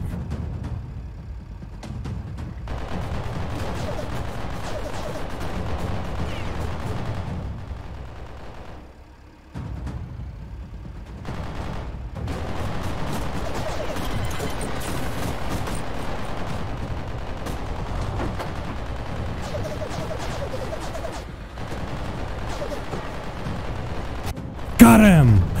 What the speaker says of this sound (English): What's annoying is not all my machine guns shooting, only one of them.